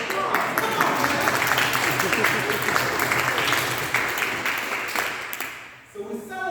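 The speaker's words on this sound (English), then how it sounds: "Let's go for applause." A crowd at an environmental justice talk claps in sustained, loud applause for several seconds that fades near the end as a speaker's voice returns.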